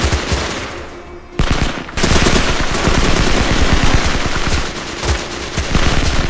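Anti-aircraft gun fire in a black-and-white war movie scene: loud, dense rapid bursts of automatic gunfire rattling almost continuously, with a brief gap before resuming at full intensity.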